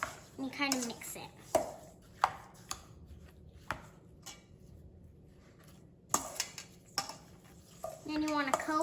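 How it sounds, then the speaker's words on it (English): A spoon clinks and taps against a bowl while stirring raspberries, dragon fruit, water and sugar, with scattered sharp strikes; a person talks briefly at the start and end. "Then you go around with a spoon and you kind of mix it."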